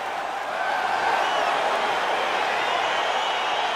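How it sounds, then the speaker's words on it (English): Arena crowd cheering at the start of a fight in EA Sports UFC 4, a dense continuous roar of voices swelling slightly and holding steady with no breaks. "crowd getting excited as this fight gets underway"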